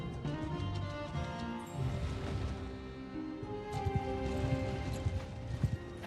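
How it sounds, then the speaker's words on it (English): Horse hooves clatter in a fast, rhythmic gallop in the naval battle game Warsails, over a busy background of game effects and music, moderately loud throughout. "let's get a little bit more horse riding."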